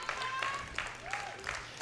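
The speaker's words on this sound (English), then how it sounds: "she's got plenty of support in the crowd" Crowd applause and cheering for a Norwegian hometown powerlifter at a world equipped powerlifting championship, steady and fairly loud with periodic swells, mixed with a commentator's voice and whistle-like tones.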